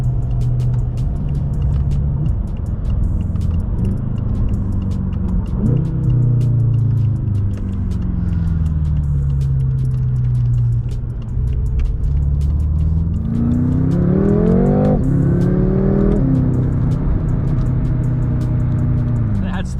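A 675hp BMW M5 accelerates hard on a snowy road, heard from inside as the engine rises in pitch through gear pulls, dropping at shifts, with a loud sustained rumble and a final strong climb.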